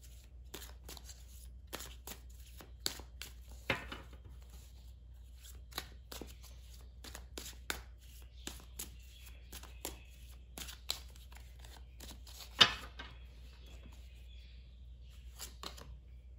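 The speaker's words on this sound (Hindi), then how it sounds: "मैं थोड़े और कार्ड्स निकालूंगी" Tarot cards shuffled and drawn for a reading: a string of short crisp riffles and slaps in a quiet room, irregularly spaced, with one sharper snap near the end.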